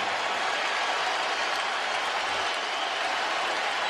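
Arena crowd at a 2006 NBA playoff game between the Heat and Bulls in Chicago, roaring and cheering for the home Bulls in a dense, steady wall of sustained noise without a break.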